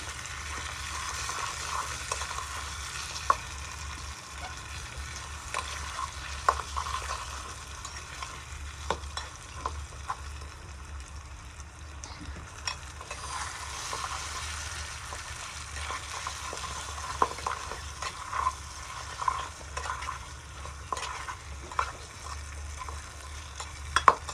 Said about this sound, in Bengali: কষানো প্রায় হয়ে আসছে আমাদের গরু মাংসটা।